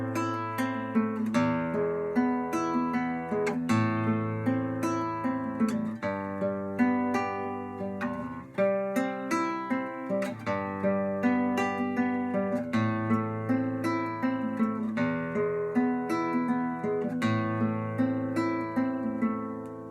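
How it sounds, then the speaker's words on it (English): Finger-picked guitar played alone in a steady flowing pattern of plucked notes and bass, close and clear, with no talking. "it would sound like this if I followed the Disler finger-picking rules"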